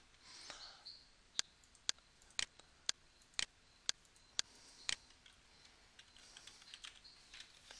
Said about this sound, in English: For now, I'd just like you to type in default here.